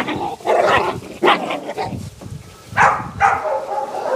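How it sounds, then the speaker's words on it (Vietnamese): Red and black Malinois (Belgian Shepherd) puppies, about three months old, barking and whimpering in a litter, with repeated yips and short barks in irregular bursts, fairly close. "8 con Bexie Mỹ 3 tháng tuổi, màu đỏ đen."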